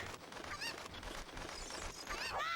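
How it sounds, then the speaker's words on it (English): Cuccos in the video game Ocarina of Time cluck and squawk in short bursts, several calls overlapping against a busy game soundtrack. "If anybody has played Ocarina of Time, they probably remember doing the chickens here."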